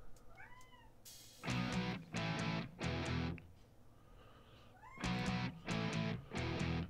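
A house cat meows repeatedly indoors, six loud drawn-out meows in two groups of three, each clear and close with quiet room tone between them.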